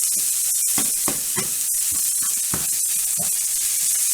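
Chorizo fries in a pan as its fat renders out, giving a loud, steady sizzle broken by repeated scraping and stirring strokes from a utensil, close up with no talk.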